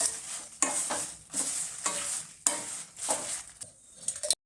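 Whole spices for bisibele bath powder fry and get stirred in a pan, with rhythmic scraping strokes over a steady soft sizzle, close-up and alone without any voices.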